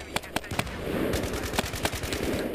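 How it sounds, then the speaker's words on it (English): Bursts of fire from an RPK-74 light machine gun, several sharp separate shots ringing out close over a loud steady background. "hold back, slide back, and get ready to fire out a few shots again"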